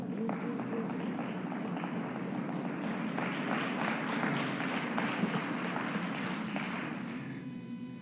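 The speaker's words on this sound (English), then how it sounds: "please give him a round of applause" Audience applauding Dr. Paul Ortiz at a university event, a soft, fairly distant sustained patter of clapping that rises and then tapers off near the end.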